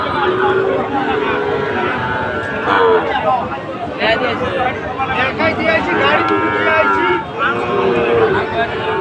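Cattle moo repeatedly at a busy cattle market, several long drawn-out lows from nearby animals mixed with steady crowd chatter and people talking close by.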